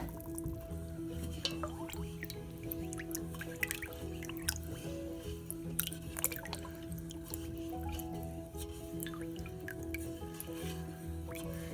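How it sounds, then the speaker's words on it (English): Water pours into a pot of sugar to start a syrup for canning pineapple, making a steady liquid fill with light drips and splashes over a low kitchen hum. Nobody speaks. "I'm going to just pour in my water and get this going and dissolved"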